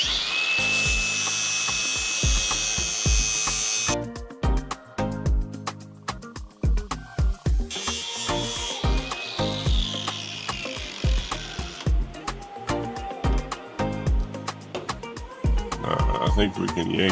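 Power tools work on a car's fender flare, a high whining drill in short bursts alongside rapid clattering knocks and scraping, with voices talking intermittently.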